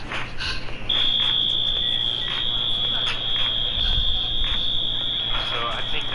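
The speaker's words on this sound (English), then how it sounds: "It might have set off some kind of alarm." A smoke alarm set off near powerful magnets, emitting a continuous high piercing tone over a steady background hum, with people talking throughout.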